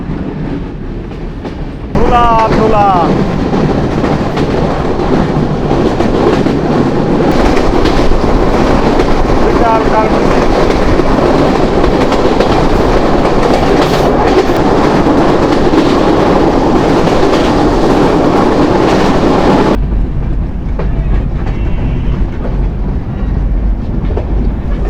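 Sagardari Express, an intercity train in Bangladesh, rumbles steadily with rhythmic clickety-clack of wheels on rail, a loud continuous onboard roar that swells after a brief quieter start, with scattered voices of passengers beneath the noise.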